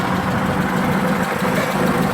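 A small car engine idles in a steady low rumble, close and continuous over a short stretch with no voices.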